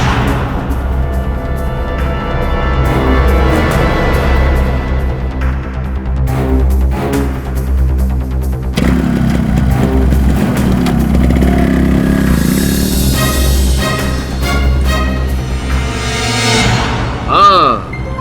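A motorcycle engine starts up and revs loudly, then keeps a rough, rising roar as the bike rides away, heard over loud background music and other noise.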